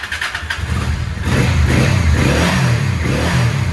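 A small Honda engine that has sat unused a long time runs smoky, its rough, close motor rumble rising as it revs up and holding a loud, uneven drone.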